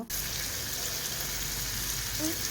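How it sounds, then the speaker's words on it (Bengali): Potatoes go into chicken liver curry frying in a pan, giving a steady close sizzle of oil that holds through after a brief start. "কলিজা কষানো শেষ হয়ে আসলে আমি এখানে আলুগুলি অ্যাড করে দেব"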